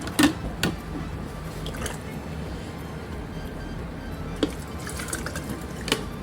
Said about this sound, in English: let's try and get some peaches put inside of our jars